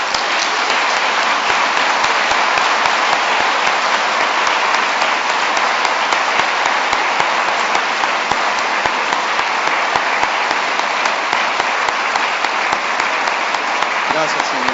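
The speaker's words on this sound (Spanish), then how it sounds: "Dale un fuerte aplauso al Señor." Loud, sustained applause from a large church congregation, a dense steady roar of clapping that continues unbroken from start to finish.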